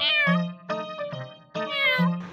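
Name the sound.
cat meowing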